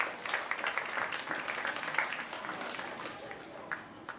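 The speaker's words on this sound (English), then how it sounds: "So big round of applause for all these athletes." A school awards assembly applauds its athletes with a crowd's continuous, fairly soft clapping that lasts a few seconds and then fades.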